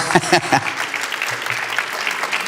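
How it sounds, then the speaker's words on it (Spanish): Audience applause at a coffee expo talk, broad clapping that starts with a few louder claps and settles into steady, even patter under a voice briefly at the start. "Un aplauso para Nico para que se le vaya un poquito eso"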